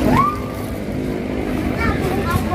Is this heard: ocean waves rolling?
yes